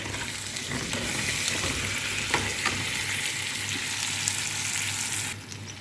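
Turmeric, spices and panch phoron being mixed in a frying pan for a raw-mango pickle, a dense continuous sizzle with occasional light scraping, ending abruptly; no voices.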